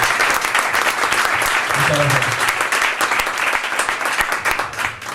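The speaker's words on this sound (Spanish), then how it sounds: "por favor un fuerte aplauso para este pedazo de ponente que tenemos hoy" Loud, dense applause from a conference audience for a speaker at WordCamp Madrid, steady clapping throughout with a voice briefly speaking over it.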